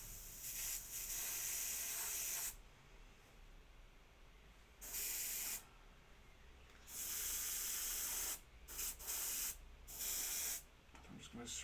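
An airbrush sprays Nuln Oil wash onto a miniature in several short, close hissing bursts separated by brief pauses.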